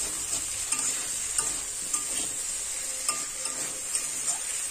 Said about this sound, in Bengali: মশলাটার সঙ্গে কচু আর আলু ভালো করে কষিয়ে নিতে হবে